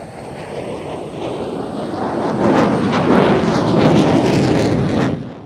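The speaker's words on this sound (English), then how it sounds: "This is the second of the F-16's 360, which, as I say, was a bit quicker." An F-16 fighter jet flies a 360-degree turn, its broad roaring jet noise swelling through the middle and holding steady before easing off at the end, with some wind buffeting the microphone.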